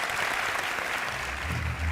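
Audience applause at a Turkish television drama team interview, a soft, steady patter of clapping heard at some distance, fairly faint throughout.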